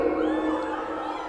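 A large indoor audience at a TEDx talk shouts, whoops and cheers together in a sustained, dense crowd roar lasting the whole moment, with no single voice standing out.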